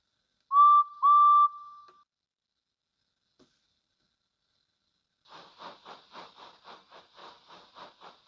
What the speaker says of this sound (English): Soon the guard blew his whistle and Edward set off down his branch line.